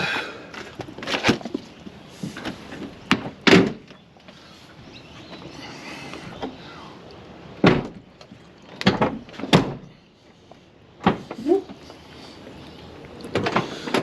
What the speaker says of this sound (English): See if the tailgate shuts.